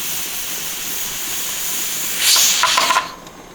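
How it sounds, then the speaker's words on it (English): A pressure canner at 15 pounds of pressure, loaded with jars of home-canned chicken, gives a steady broad hiss that swells into a brief louder burst of escaping steam near the end and then eases off. "I'll start the timer once I see some steam coming out of there"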